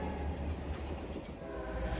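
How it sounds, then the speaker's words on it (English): A railroad geometry train, specialized track-inspection equipment, rolls past with a steady low rumble and faint rail clatter, moderately distant and unbroken by talk. "A geometry train is a specialized piece of railroading equipment utilizing an arsenal of computers and sensors."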